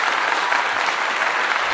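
Steady burst of hand clapping, close and fairly loud, continuous with no voices over it.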